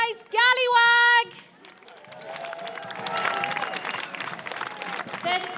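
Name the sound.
crowd cheering and applauding sailors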